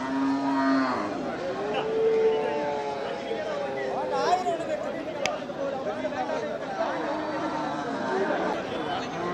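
Cattle lowing at the Melapalayam cattle market, several drawn-out moos rising over a steady hubbub of people talking nearby throughout.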